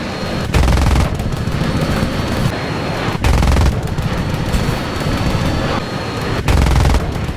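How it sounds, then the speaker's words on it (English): Cannon fire from a MiG-17 jet in the War Thunder flight combat game, its 23 and 37mm guns firing in three loud rapid bursts over a steady roaring jet engine drone. "He lets loose a cannon burst before pulling off to the right."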